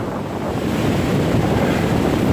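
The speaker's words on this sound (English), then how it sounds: "The winds are roaring." Strong wind roars steadily across the Appalachian Trail in the Smoky Mountains during stormy March weather, a loud, unbroken rushing that buffets the microphone for the whole stretch.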